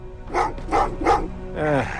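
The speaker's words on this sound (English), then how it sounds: "Oh, what's with the dogs?" Several dogs barking in the video game Terminator Resistance, four loud barks in an uneven rhythm with a whine at the end, close and clear over a low hum.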